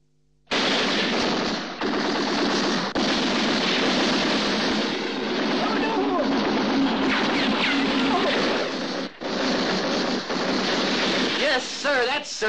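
Sustained heavy machine-gun fire in a Sinai battle scene, dense rapid bursts loud and close for nearly the whole stretch, with brief gaps and a faint voice near the end.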